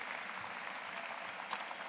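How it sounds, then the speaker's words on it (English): Faint, distant clapping from an audience at a graduation ceremony, a soft continuous patter throughout the short moment. "Let's give Curtis Action Jackson another round of applause for that inspirational speech."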